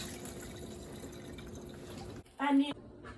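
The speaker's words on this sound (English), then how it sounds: "Let's drain the water from the potato" Water drained off a pot of boiled potatoes, a soft splashing, dripping pour beneath kitchen chatter, with a brief louder gush near the end.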